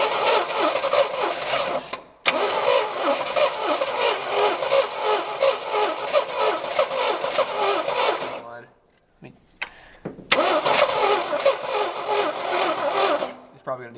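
An old AMC Rebel, abandoned for decades, cranks and catches, its engine running roughly in a loud, steady churning drone, cutting out briefly and then starting again for another sustained run.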